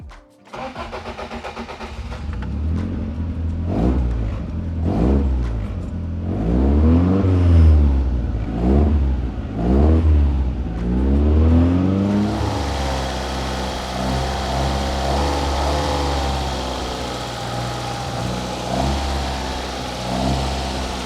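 A car with a BEAMS 3SGE engine cranks and fires up, then revs repeatedly in rising and falling sweeps before settling into a steady, loud idle, heard close with no talking.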